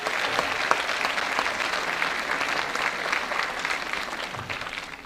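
An evening fashion show audience at Afrik Impact 2023 breaks into dense, sustained applause, many hands clapping together at a steady, lively level, with a few sharper claps standing out before it thins slightly at the close.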